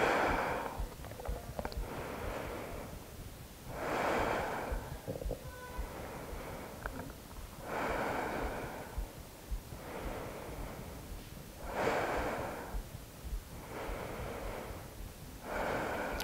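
Slow, deep breaths taken while holding a yoga pose, each long airy inhale and exhale close and soft, repeating at an unhurried, regular pace with no talking.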